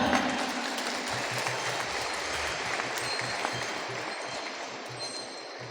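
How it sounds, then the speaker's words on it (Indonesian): Sustained applause from a large crowd at a religious gathering in a sports hall, a dense steady patter of clapping that fades slightly toward the end, with no speech over it. "Tepuk tangan."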